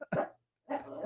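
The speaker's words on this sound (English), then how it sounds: "we tried to plan so the dogs won't be barking. It still didn't work." Dogs barking indoors: a couple of short, fairly faint barks with a brief gap between them, heard close by.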